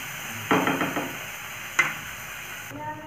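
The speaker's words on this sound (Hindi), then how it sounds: "ऐड करेंगे टमाटर। टमाटो हमें नरम होने तक पकाना है।" Tomatoes cooking in a pan until soft for a vegetarian thali, with two short bursts of stirring and scraping over a low, steady sizzle; no talking.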